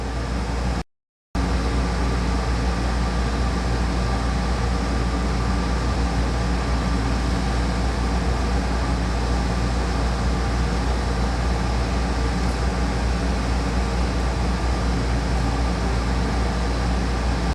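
Dust collector hooked up to a Delta scroll saw running with a loud, steady whooshing roar that barely changes, broken only by a brief dropout near the start.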